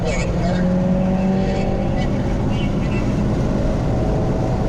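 A car engine roars steadily up close, its pitch climbing as it accelerates, with a continuous rumble throughout and a voice talking over it.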